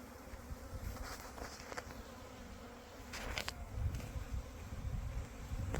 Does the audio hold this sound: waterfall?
no